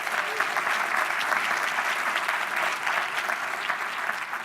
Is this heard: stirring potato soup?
no